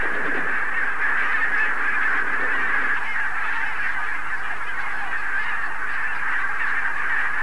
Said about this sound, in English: One of the loveliest sounds in nature, wild geese on the wing.